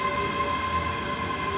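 A ScotRail train pulls out of Stirling station, a loud, steady engine drone with a constant tonal hum, heard close and alone without voices.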